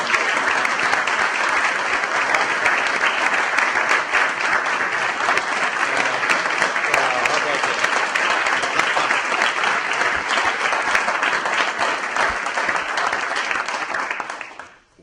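Sustained, steady applause from a crowd at a chamber of commerce ceremony honoring first responders and other awardees, continuing at full strength for about fourteen seconds before quickly dying away.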